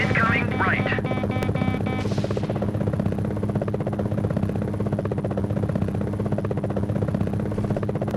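An enemy helicopter in the combat flight game Gunship makes a steady, continuous rotor drone and buzz that runs the whole time, with game chatter and blips layered on top and a voice talking over it.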